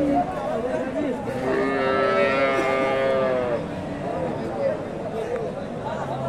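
At the Dakumara cattle market, a Friesian cow or heifer calf lets out one long, close, drawn-out moo over a murmur of crowd chatter, and people talk nearby.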